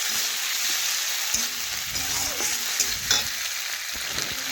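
Ginger, green chili, cumin, black pepper and garlic paste fry with tomato and onion in a pan, a constant bright sizzle broken by soft scrapes and taps of a stirring spatula.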